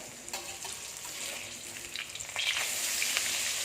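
Battered vegetables, including sesbania flowers and tender shoots, deep-frying crisp in hot oil, a steady close bright sizzle with small crackles that swells louder near the end, no voices.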